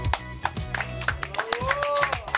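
Sharp, evenly spaced hand claps keep time at a brisk, steady beat through a lively studio performance on a TV show, mixed under music and a singing voice.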